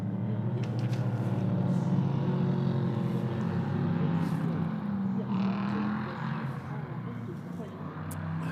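Prototype race cars rolling around Magny-Cours on a formation lap, a steady mid-distance engine drone that eases off slightly toward the end, with commentary over it.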